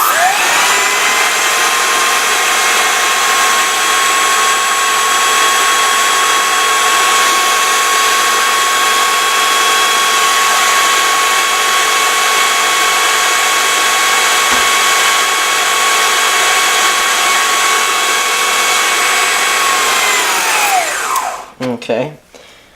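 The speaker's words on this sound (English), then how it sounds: "you're gonna need a food processor to do this" Food processor blending honey chipotle dressing: a loud, continuous high-pitched motor whir holds steady for about twenty seconds and then winds down and stops, with no talking.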